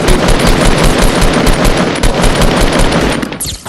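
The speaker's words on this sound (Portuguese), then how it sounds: "tiro de Southwest essa" Rapid automatic gunfire from a Fortnite match, loud dense bursts of shots filling the whole stretch, tapering at the end.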